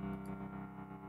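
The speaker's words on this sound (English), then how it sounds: "I've added something called a gatekeeper, which is a rhythmic gate" An acoustic piano chord runs through a Gatekeeper rhythmic gate effect, its sustained tone pulsing in a quick, steady chopped pattern over about a second, quiet and close.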